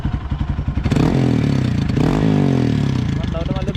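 An Xpulse 200 motorcycle fitted with a Motowings aftermarket exhaust runs close by, a deep pulsing idle that swells into a sustained rev and stays loud to the end.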